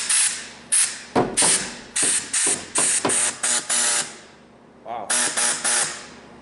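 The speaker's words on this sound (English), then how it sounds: "So we are right now going to cut this piece of metal. We got it all marked out, and we are going to start grinding away with our saw." A Powermate VX air body saw cutting a marked-out piece of metal, loud close rasping bursts starting and stopping in rapid succession, with a brief pause before a few more runs.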